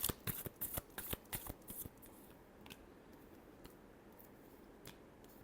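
Tarot cards are shuffled in a quick riffle of crisp, close flutters and snaps, then a few softer taps as the deck settles, with no talking.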